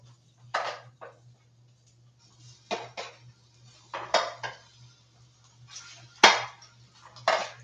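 Intermittent metallic clanks and clatters of pans and tongs while cooking meat, about half a dozen sharp bursts separated by pauses, over a low steady electrical hum.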